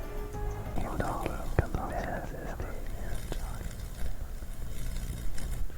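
Hushed whispering voice in the game Father: The Truth, breathy and murmured, with soft rustles and occasional thumps underneath.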